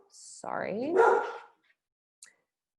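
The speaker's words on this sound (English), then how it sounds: "Sorry, my dogs, as I said to a few of you who popped on earlier, my dogs are with me" Dogs in a home office during an online lecture let out one drawn-out, rising bark-yelp close by, followed by a brief faint yip after a pause.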